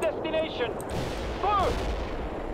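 Muffled gunfire from the World in Conflict strategy game thuds in the background under tonal game sounds and a talking voice.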